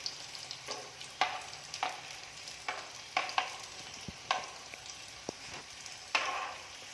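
A chicken roll frying in a little coconut oil in a pan, a soft, continuous low sizzle broken by several sharp spatula scrapes and taps spaced a second or so apart, with no voices.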